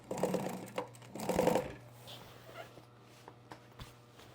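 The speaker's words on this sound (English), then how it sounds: "And then we'll start to sew this, do our lock stitch." A sewing machine runs a lock stitch through a large piece of upholstery fabric, giving two short bursts of whirring stitching followed by quieter handling knocks and clicks, close and fairly soft.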